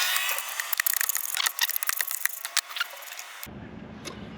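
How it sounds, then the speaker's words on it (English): A 15/16 socket working loose the oil filter housing nut on a 2020 Jeep Gladiator, with a run of close metallic ratcheting clicks and scrapes for about three seconds before it goes quiet. "got my 15/16 socket that I'm going to use to pop off this nut"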